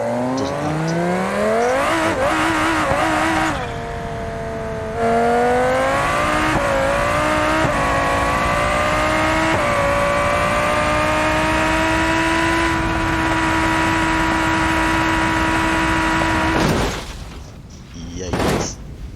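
Civetta Scintilla drag car in BeamNG.drive, its engine roaring loud and close as it accelerates, pitch climbing through repeated gear changes over about sixteen seconds, then a crash and tumbling clatter near the end.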